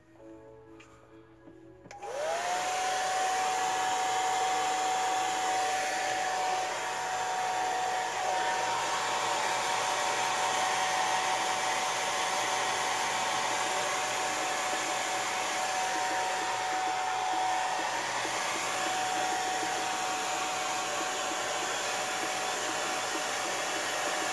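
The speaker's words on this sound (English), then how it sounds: "Hair dryer time." A hair dryer switches on after a quiet moment and runs loud and steady with a constant whine, close by, without pause.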